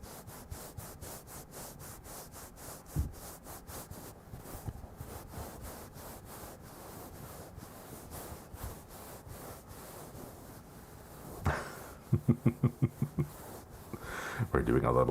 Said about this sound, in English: The rubbing sound is doing something to your ears